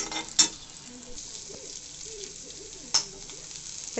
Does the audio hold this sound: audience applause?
no